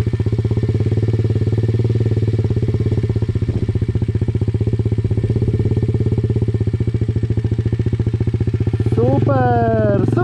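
An enduro motorcycle engine idles with a light throttle in a steady, close, loud thrum. A quick rev rises near the end, and people talk over it.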